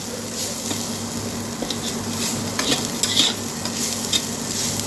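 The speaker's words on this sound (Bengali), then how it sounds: "আলু ভাজা করছি একটু কড়া কড়া করেই করছি আলু ভাজাটা" Potatoes frying crisply in a pan with a constant sizzle and crackle, plus occasional scraping stirs and light clinks, close and steady without talk.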